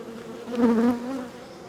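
Honeybees buzz close by around beehive frames that were taken out and sprayed with water. A brief, moderately loud droning hum swells and fades over about two seconds.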